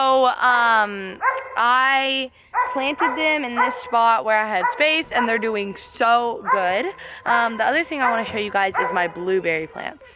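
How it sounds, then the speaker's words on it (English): A loud dog barks, yips and whimpers repeatedly while hunting and chasing squirrels in a backyard garden. Rapid, insistent bursts sit close to the microphone, overlapping someone talking. "Sorry if you hear my dog in the background."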